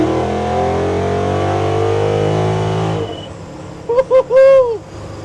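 1971 Ford F100 pickup with a 5.0 Coyote V8 accelerating, a loud close engine roar rising steadily in pitch for about three seconds before cutting off, then a short whoop from a voice.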